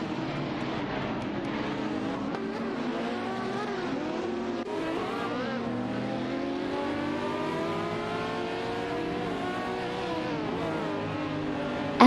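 Video game race cars, Ferrari 512s and Porsche 917 racing, high engines droning and rising and falling in pitch as several cars pass and shift, a continuous layered roar with no talk.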